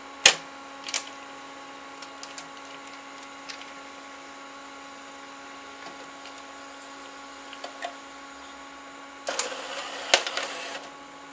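A U-matic BVU-800 tape deck's threading mechanism ejecting tape gives scattered sharp mechanical clicks over a steady hum, then a loud, dense whirring and rattling burst near the end.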